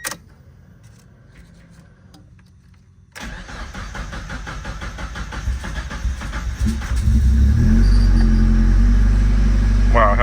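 A supercharged Mazda Miata starts up after a few seconds of quiet cabin shuffling, then its engine settles into a steady idle that swells into a louder, deeper drone as the car pulls away, heard from inside.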